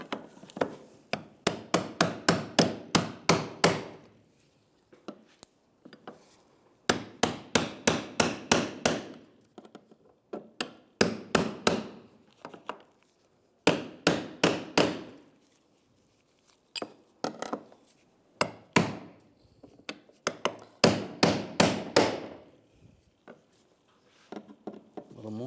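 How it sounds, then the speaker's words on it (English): Sharp metallic hammer blows drive a brass punch against the fuel pump module locking ring on a 2007-2013 Chevrolet Silverado 1500, landing in rapid bursts of about eight to ten strikes separated by short pauses, close and loud. "just use the brass punch and a hammer"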